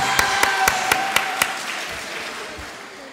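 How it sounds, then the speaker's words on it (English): A small group at an awards day ceremony claps in a sparse, evenly spaced rhythm of about six distinct claps, then fades into quiet room noise. "We can clap."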